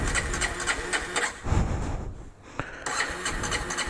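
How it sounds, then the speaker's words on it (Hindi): A Bajaj Avenger Street 160 motorcycle that has sat unused for a long time cranks over in short repeated bursts, pauses briefly, then cranks again, up close with no talking. "चलो देखते हैं बाइक स्टार्ट होता है कि नहीं"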